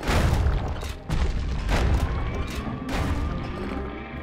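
A big rifle fires in the video game Bastion: about five loud, booming shots at uneven intervals, each a sharp crack with a rumbling decay, standing out clearly over a faint game background.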